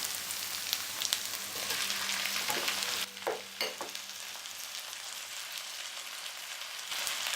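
Onions, tomatoes and green chilies sizzle and fry in a pan for an eggplant bharta, a steady close crackle broken midway by a few stirring scrapes and clinks before the hiss settles back.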